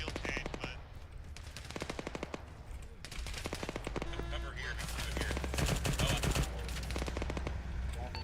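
Machine gun suppressing fire in the military video game Arma 3, rapid bursts of automatic gunfire repeating throughout, loud and close, with some other game noise in the background.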